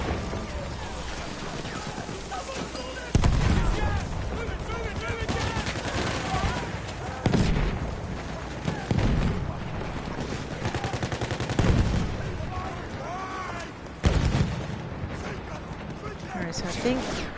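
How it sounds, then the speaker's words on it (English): Artillery barrages and gunfire in the multiplayer game Rush during a clan battle, with dense continuous shooting and several heavy booming bursts breaking through a steady roar of combat. "so that they can get those enemy barrages, those artillery barrages going"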